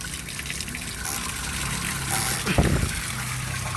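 Water rushes and gushes steadily as a fishpond tank drains through its opened plug, a continuous loud splashing flow with a brief surge near the end.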